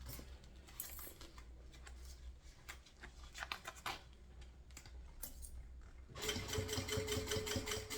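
A sewing machine stitching a handmade fabric bag, a rapid mechanical clatter running in short bursts close up, quieter at first and then a louder sustained run near the end.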